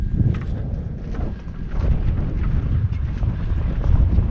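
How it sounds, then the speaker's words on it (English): Gusty wind at White Sands National Park, New Mexico, buffets the microphone with a low, rumbling roar that rises and falls, no voices heard. "Definitely windy here though."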